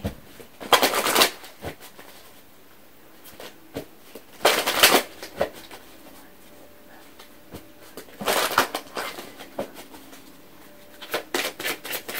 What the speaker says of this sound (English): let me go ahead and pull some romance angel cards